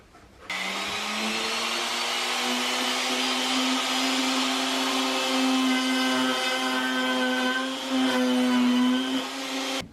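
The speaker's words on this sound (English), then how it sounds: "My hole saw was too small to fit these bulkheads, so I had to use the router." A router cuts holes for bulkhead fittings in an intake screen box for a micro hydro system, a loud steady motor whine rising slightly in pitch as the bit bites in, running nearly ten seconds alone.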